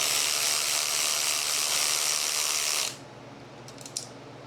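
A ratchet with a deep socket works bolts during the teardown of a 200 inline six engine from a 1967 Mustang, giving a rapid, close, continuous ratcheting buzz for about three seconds before it stops, followed by a couple of faint metallic clinks.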